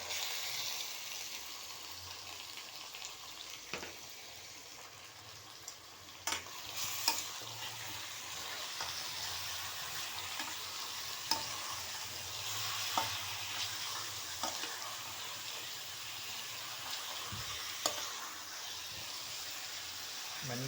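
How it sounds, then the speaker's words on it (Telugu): Chicken pieces stir-fried with onions, ginger-garlic paste and green chillies in a curry pan, a steady broadband sizzle with scattered scraping stirs and clicks of a utensil, close and continuous throughout. "ఇప్పుడు చికెన్ యాడ్ చేయాలి."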